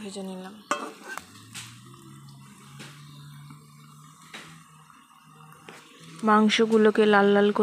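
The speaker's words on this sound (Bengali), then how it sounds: "আলুগুলোকে লাল লাল করে ভেজে নিলাম" Potatoes frying in a pan until reddish while chicken is being cooked, with soft sizzling and stirring scrapes, close by; near the end a voice rises over the pan.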